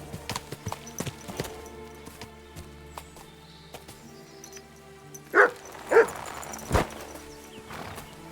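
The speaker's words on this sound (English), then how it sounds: "Good dog, Mutt." A dog in Kingdom Come Deliverance II gives a few loud, separate barks near the end, following a stretch of clopping hooves and busy game sounds.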